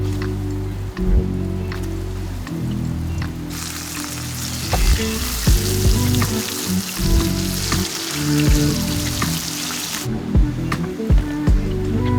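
Food frying in hot oil during a cooking session at a rainy truck campsite, with steady loud sizzling and crackling throughout and bursts of brighter hiss, nobody talking.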